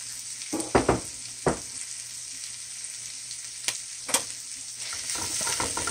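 Dragon kale drops into a pan over onion and garlic, setting off a quiet steady sizzle broken by a few sharp clacks of handling and a louder rush as it settles in.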